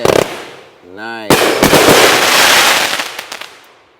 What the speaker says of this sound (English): That was a good bang at the end there.